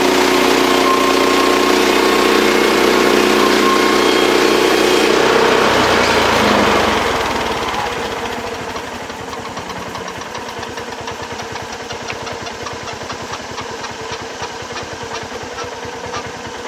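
A portable sawmill engine idles loudly and steadily after milling lumber outdoors, its rough mechanical drone dropping to a lower, quieter idle partway through and continuing alone with no talk.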